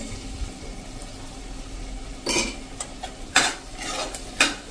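Tomato puree masala cooking over a slow flame in a pan, stirred with a spoon in a few sharp scraping strokes over a soft, steady sizzle.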